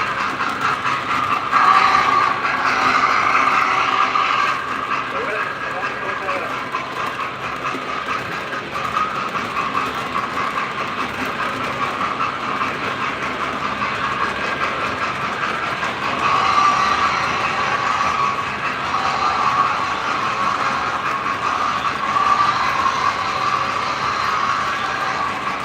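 An MTH model train locomotive with an onboard sound system runs steadily, putting out a continuous rumbling chuff and rail drone with a smoking effect. The sound is fairly loud and close, with no talking.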